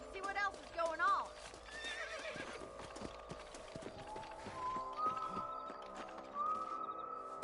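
Horses whinny and neigh near the start in Red Dead Redemption, with hooves clip-clopping along beneath steady game music and brief voices.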